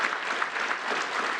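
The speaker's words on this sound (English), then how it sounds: "can we give a big round of applause" Audience applause for South Africa's Deputy President Cyril Ramaphosa at an economic address, a dense, even burst of clapping from a large crowd, brief and continuous.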